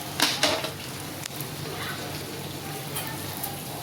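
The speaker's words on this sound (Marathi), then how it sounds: "अंड्याचं हे आपण बॅटर टाकून घेऊ। गॅस एकदम कमी ठेवायचा आहे।" Egg batter frying in a lightly oiled pan over a very low flame, giving a soft, steady sizzle with a few louder crackles at the start, then settling into a quiet, even hiss.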